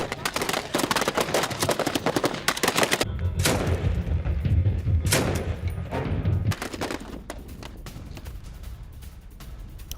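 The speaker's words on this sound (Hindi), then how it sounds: "ये देखिए आप, असद की सेना और विद्रोहियों के बीच में आमने सामने की गनफाइट।" Sustained gunfire from a face-to-face gunfight between Syrian army troops and rebels, dense rapid bursts and cracking shots, loud and continuous with heavy low rumble midway, no talk.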